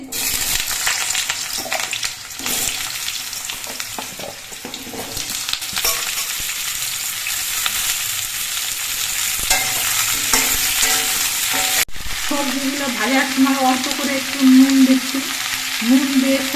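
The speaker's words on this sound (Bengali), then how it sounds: "সর্ষের তেলটা গরম হয়ে যাওয়ার পর এর মধ্যে আমি সবজিগুলো ভেজে নিচ্ছি" Vegetables frying in hot mustard oil in a wok, a loud continuous sizzle with frequent stirring and scraping, and a wetter, bubbling fry in the last few seconds.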